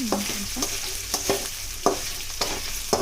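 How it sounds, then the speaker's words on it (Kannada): Potatoes fry in hot oil in a pan for sabudana khichdi, a steady close sizzle broken by repeated scraping strokes of a spoon stirring them, with no voices. "ಆಲೂಗಡ್ಡೆ ಸ್ವಲ್ಪ ಬೇಗ ಫ್ರೈ ಆಗಲ್ಲ, ಸ್ವಲ್ಪ ಫ್ರೈ ಆಗಬೇಕು."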